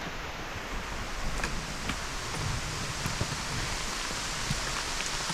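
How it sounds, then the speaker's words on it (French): Steady rain falls on a mountain trail on the GR20 in Corsica as a dense, even hiss of drops, constant and moderately loud, with no voices. "Il se met à pleuvoir, bien comme il faut."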